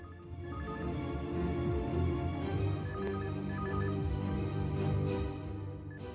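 A phone rings at a low level through a steady, busy background, with its short electronic tone bursts repeating over several seconds and no voices.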